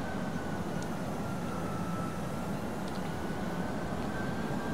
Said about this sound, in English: So our engines are still surging back and forth, which is nice and annoying